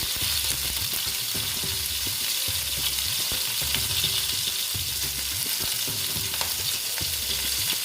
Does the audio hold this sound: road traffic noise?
no